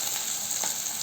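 Green chillies and onion with bay leaf, dried chilli and panch phoron fry in a pan, giving a steady, close, loud sizzle with a faint stirring scrape partway through.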